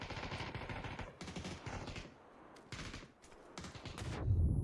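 Rapid bursts of automatic gunfire in a competitive online shooter league match, loud and close, with several volleys separated by short gaps and a heavier low blast near the end.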